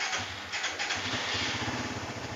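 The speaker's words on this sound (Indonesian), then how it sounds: "Untuk mesin halus, sekali sentuh juga nyala." A 2018 Suzuki GSX-R motorcycle engine catching and settling into a steady, pulsing idle, close and fairly loud, with no talking.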